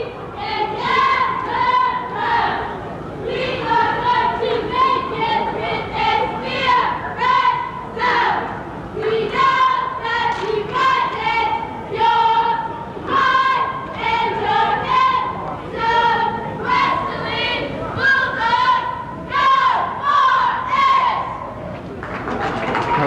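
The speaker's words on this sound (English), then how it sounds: "our fine Westerly High School cheerleaders, and they're going to face our cameras for us and do us a welcome cheer" Westerly High School cheerleaders chant a loud, rhythmic welcome cheer in unison at a 1986 boys basketball game, their voices steady and close for over twenty seconds, with thumps and crowd noise beneath.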